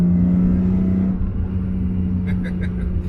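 Supercharged BMW E46 M3 with an S54 engine and Active Autowerke supercharger, roughly 400 hp, pulling hard under acceleration: a loud, steady low engine drone close by with a rising whine, and a few brief sharper bursts near the end.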